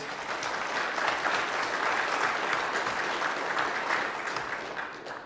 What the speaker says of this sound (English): One more round of applause for everyone, please